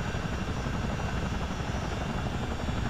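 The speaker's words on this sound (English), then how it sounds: "I'm going to ascend into a hover above the river so it's easy to find." A simulated CH-47 Chinook tandem-rotor helicopter hovers over a river in a flight game. Its dense, steady rotor and engine roar is loud and continuous, with no voices over it.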